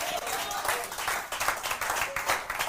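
A church congregation claps together, a dense run of brisk, overlapping claps that keeps a fairly steady rhythm throughout, with voices mixed underneath.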